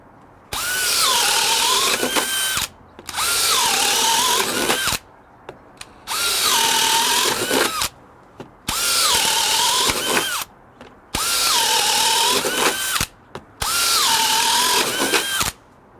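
A DeWalt Flexvolt DCD999 1/2-inch cordless hammer drill whines at high speed in five long bursts, each lasting about two seconds with short pauses between, loud and close.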